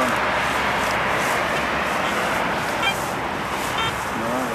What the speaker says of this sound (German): weil du hast jetzt den Straßenlärm, weißt du? Ja, ja, der Lärm von den Autos